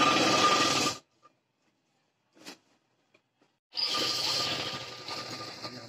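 A sewing machine stitches the leg seam of ladies' pants in two close, steady whirring bursts separated by a few seconds of near silence.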